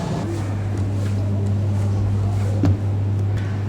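Steady wind roars and buffets across the deck of the Viking Venus cruise ship in snowy Arctic Tromsø, Norway, with a constant low rumble and a brief gust bump near the end, close and continuous.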